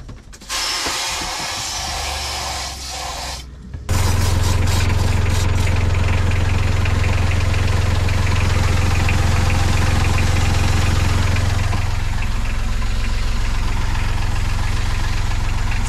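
An inboard engine on an aluminum monohull sailboat runs while flushed with fresh water, with a steady close rumbling idle and mechanical knocking that continues loudly throughout after a short lower-level start.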